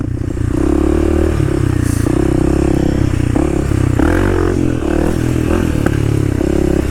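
A dual sport motorcycle rides along a dirt trail. Its engine drones loudly and steadily at close range, rising and falling slightly in pitch over a rattling, scraping clatter from the rough ground.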